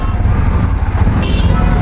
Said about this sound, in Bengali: দেখো কীভাবে গাড়ি যায়।